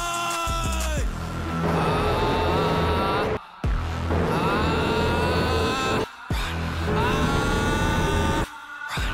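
Pulsar N160 and Apache RTR 160 4V motorcycles in a drag race, engines revving hard and loud with rising pitch through repeated gear shifts, brief drops between gears, near and continuous with no talk.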